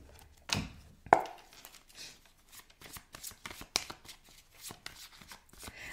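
Tarot cards are shuffled and pulled close to the microphone: a sharp riffle, then a run of soft quick flicks and slaps in an uneven rhythm, quiet overall.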